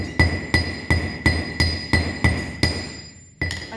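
Steady hammer blows on metal wire being worked for drawplate wire making, about eight sharp, ringing strikes spaced roughly half a second apart, each with a bright metallic ring that decays before the next, close and fairly loud.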